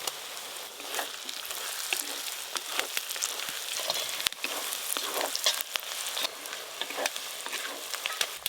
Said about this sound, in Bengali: রসুন দেওয়ার পর 2-3 মিনিট ভালো করে নেড়ে নিয়েছি